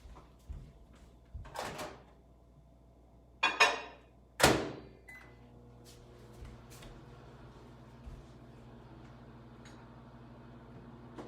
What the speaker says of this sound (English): So I'm gonna put this in the microwave for a minute.